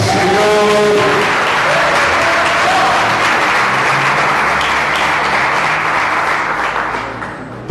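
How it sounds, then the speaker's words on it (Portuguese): A church congregation applauds together, a loud, dense, sustained clapping that stays strong throughout and eases slightly before cutting off at the very end. "Dê um aplauso ao Senhor."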